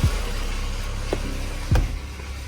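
A BMW X5 engine runs steadily at idle after about ten to fifteen minutes of warm-up, giving a continuous low rumble with a couple of brief thumps and clicks nearby.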